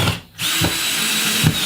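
A power drill drives screws into drywall, giving short loud whirring bursts separated by brief pauses, close and with no talk.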